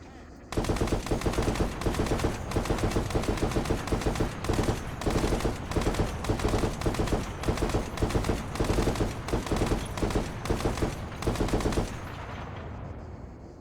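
Rapid, sustained automatic gunfire aimed at a tank in the Arma 3 military video game, loud and close, firing in dense repeated bursts for about eleven seconds before cutting off abruptly.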